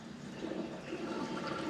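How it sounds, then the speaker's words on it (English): Liquid fuel pours steadily from a 5-gallon can into a 1960s dump truck, a soft continuous gurgling wash with no talking. "We're just gonna try and take this top off and pour this one in."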